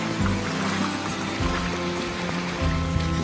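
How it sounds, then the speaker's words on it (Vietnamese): Footsteps wade through a stream inside Son Doong cave, with a continuous rushing, gurgling flow of water and repeated low sloshing surges as legs push through, close and steady with no talk. "Và bây giờ là đang lội suối."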